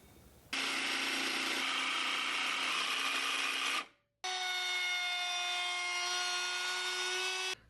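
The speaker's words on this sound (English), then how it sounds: "I had to mark and cut around a can light." A power saw cuts MDF trim to fit around a recessed can light in an attic, a loud continuous whine in two long passes with a brief pause between, steady and close with no talk.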